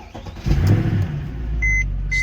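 A Mercedes W204 C63 AMG with its V8 running close by at a gas stop on a road trip, a deep steady rumble that swells briefly, accompanied by a couple of short electronic chimes from the car.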